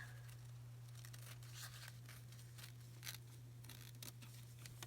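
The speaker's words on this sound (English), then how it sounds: "We'll go ahead and cut this down. And then cut it across." Scissors cutting a paper napkin, a series of quiet crisp snips and paper rustles close up over a steady low hum, no voices.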